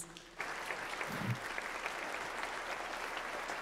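An audience at a talk on small business and entrepreneurship breaks into applause, a dense, steady crowd clapping that starts abruptly and continues evenly throughout.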